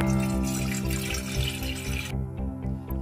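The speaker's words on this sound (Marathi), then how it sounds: "आपण यामध्ये पाणी टाकून घेऊ।" Water pouring into a pot of cut potatoes soaking for French fries, a steady close rushing splash with a faint background hum and no voices.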